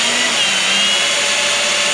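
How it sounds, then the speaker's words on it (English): A power drill boring mounting holes during maintenance on a 2018 Sea-Doo RXT-X, a steady high whine with a sustained tone throughout, close and loud, with no talk. "We're going to drill these holes out."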